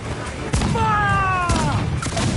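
Ship cannons boom in a naval battle in Assassin's Creed 4 Black Flag, sharp heavy blasts near the start and middle over constant sea-battle din, with voices shouting orders through it.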